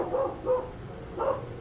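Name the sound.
dogs barking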